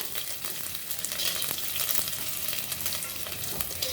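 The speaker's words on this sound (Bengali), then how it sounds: "পেঁয়াজ রসুন ভাজা হয়ে গেছে" Chopped onion and garlic, with dried red chillies, sizzle and crackle steadily in oil in a clay kadai, a close and continuous frying hiss with no talk.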